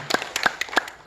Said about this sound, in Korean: 우리 병원 생일과 김정열 집사 생일 축하하는 마음으로 박수해 주시기 바랍니다.